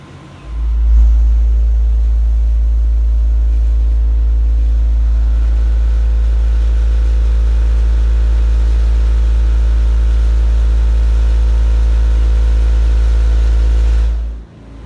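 A Sundown Audio subwoofer wall in a car pushes a massive, continuous low bass tone at 155 dB for about fourteen seconds, steady and overwhelming, with a faint rattling buzz layered above it before it cuts off.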